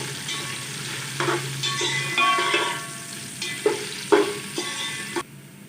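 Onions frying with spices in a pan for chicken kabsa, a steady close sizzle broken by several stirring scrapes and clatters of a spoon against the pan.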